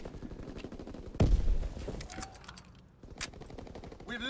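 Automatic gunfire in the World War II shooter Call of Duty WWII, a heavy close burst followed by quieter rapid shots and scattered distant fire, with a voice speaking over parts of it.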